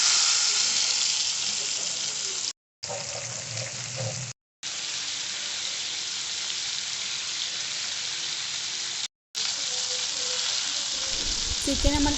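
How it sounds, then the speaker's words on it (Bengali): Chicken pieces rubbed with salt and turmeric fry lightly in hot oil in a kadai, giving a steady, close hissing sizzle broken by a few brief silent cuts. "কড়াইতে তেল গরম করেছি আর চিকেনগুলো একটু হালকা ফ্রাই করে নেব"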